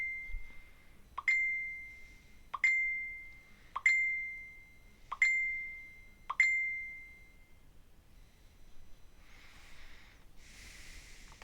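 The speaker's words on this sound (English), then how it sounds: "Don't mind that binging. My phone's just having a seizure over here." A phone sounds five evenly spaced notification dings, bright and clear, each ringing out briefly before the next, followed by a couple of soft rustling noises near the end; no one talks.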